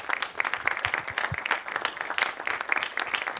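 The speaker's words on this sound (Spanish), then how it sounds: "Un aplauso." A small group claps and applauds steadily for a few seconds, fairly faint and distant, with no speech over it.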